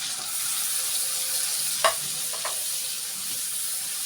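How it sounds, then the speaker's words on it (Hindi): Tomatoes and spices sizzle steadily in a pan, a soft continuous frying hiss with a couple of brief stirring scrapes partway through. "ये आप देख रहे हैं कि हमारे टमाटर इसमें पक रहे हैं अच्छे से"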